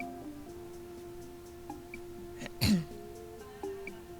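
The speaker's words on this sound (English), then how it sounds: "Just clearing my throat" A single short, throaty throat-clear from a video game character breaks a quiet room with faint ticking in the background.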